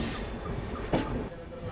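Train noise at the pit lines beside an ALCO locomotive at the Lucknow shed, a brief low rumble of rolling stock with a short metallic clank near the middle.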